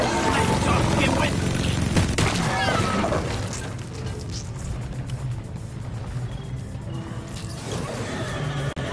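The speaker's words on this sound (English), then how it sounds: "Why are you shooting at me?" Gunfire rattles in the mining shooter Deep Rock Galactic, with dense bursts of shots and impacts amid loud game noise, strongest at the start, while a voice talks.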